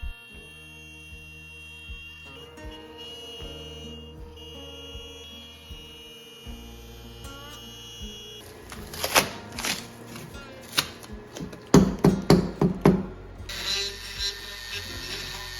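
A hobbyist CNC router cuts wooden tongs with a 1/4 inch down-cut bit, starting as a steady whine and motor hum, then turning into louder rattling, chattering cutting bursts near the end, close and alone.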